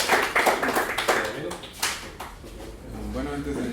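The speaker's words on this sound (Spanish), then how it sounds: "Démosle un fuerte aplauso." Audience applause after an introduction at a data science talk on nature conservation, with clapping in bursts under and between a speaker's voice that continues talking.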